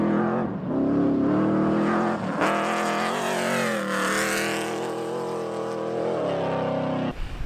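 A turbo UTV drives hard off-road on a Baja 1000 pre-run, its engine droning and rising in pitch as it accelerates. The sound is loud and close and continuous throughout, and no one speaks.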